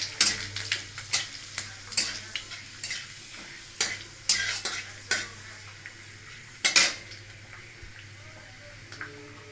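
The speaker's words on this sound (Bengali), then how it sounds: "এবার কড়াইতে তেল দিয়ে দিয়েছি। এবার দেবো শুকনো লঙ্কা, পাঁচফোড়ন, 2টা তেজপাতা।" Dry red chillies, five-spice seeds and two bay leaves tempering in hot oil in a wok, with a utensil clinking and scraping in irregular bursts over a light sizzle and a steady low hum.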